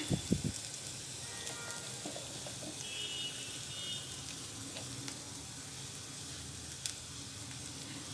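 Ginger garlic paste sizzles and fries in hot oil as turmeric and chilli powder are stirred in for an egg roast, a steady soft crackle with a few louder pops and clinks at the start.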